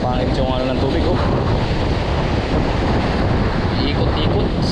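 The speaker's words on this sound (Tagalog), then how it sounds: "Lakas ng hangin." Strong wind gusting by the sea at Gun Creek, buffeting the microphone as a steady, loud roar through the whole stretch, with surf and water noise mixed underneath.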